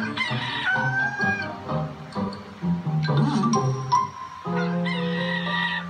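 Several roosters crow in overlapping calls, mixed with clucking and squawking from other fowl, busy and continuous throughout.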